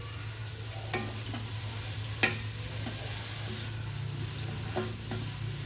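Mint is stirred into a vegetable mixture frying in a pan for millet vegetable ponganalu, with a soft steady sizzle over a low hum and a few sharp spatula knocks and scrapes.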